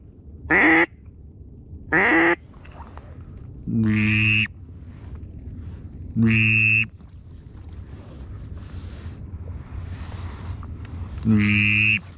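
Teal and mallard ducks quack in short loud bursts, five or six spaced calls of varying length over open water during a Minnesota duck hunt, with faint wind and background noise between them.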